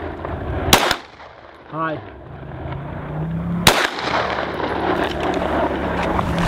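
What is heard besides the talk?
gunshots from a gun in a video game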